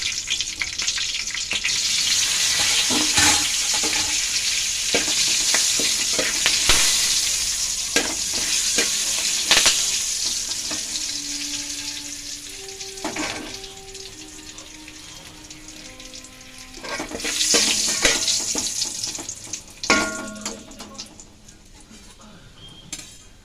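Cloves, cardamom, cinnamon and bay leaves fry in hot oil for pulao, a loud, steady sizzle close by, with a spoon scraping and clinking against the pan now and then.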